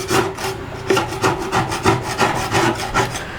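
A makeshift scraper tool, not a true card scraper, drags across wood on an old bookcase, giving a close, rhythmic series of rough rasping strokes about three per second.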